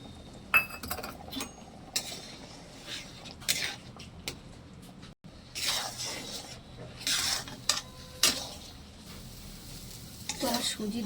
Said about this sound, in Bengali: এবার আমি দুধের মধ্যে সুজি দিয়ে একটা ডো বানিয়ে নেব।